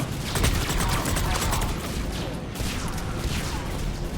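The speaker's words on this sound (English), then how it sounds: "Someone's shooting me?" Mass Effect 3 firefight: steady, loud rattling gunfire with overlapping rapid shots and mechanical clatter, continuous throughout.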